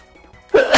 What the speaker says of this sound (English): I did sneeze because of her, finally